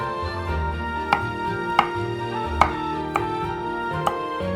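A knife cuts through carrots on a board in five crisp, evenly spaced chops, close and distinct over a low background hum.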